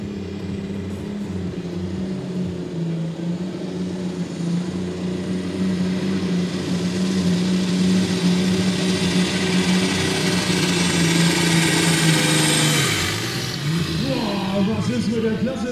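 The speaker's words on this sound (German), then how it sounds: "Der Trecker um die 2000 PS auch hier und jetzt schauen wir mal." Roaring engine of a 2000 hp pulling tractor at a tractor pulling event, a loud sustained drone that swells steadily and then tapers near the end, with an announcer talking over it.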